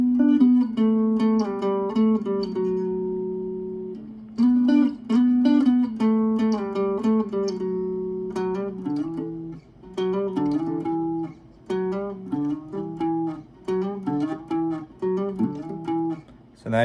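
An electric guitar plays a riff, clear plucked single notes and slides with brief pauses between phrases, recorded close and alone without any voice.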